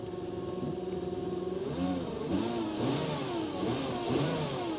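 A Volkswagen Touareg V6 engine revs up and settles in several rising and falling swells over a steady idle, heard close and fairly loud with no talk.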